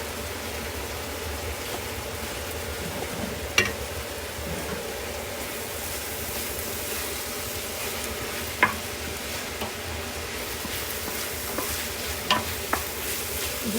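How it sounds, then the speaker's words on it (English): Onions fry in a small amount of oil in a pot while a spoon stirs them, keeping up a constant crackling sizzle. Occasional sharp scrapes and taps of the utensil against the pot sound close by. "if you don't stir it, like you keep moving it around, it will start sticking on the pot because the oil is not much"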